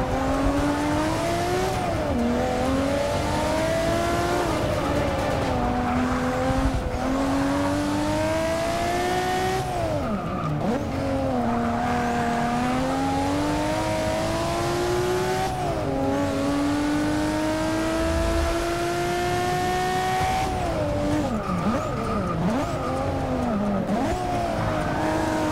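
Nissan Skyline GT-R in Forza Motorsport 6, a loud continuous engine note rising and falling through gear changes and corners, with tire squeal throughout, no talk.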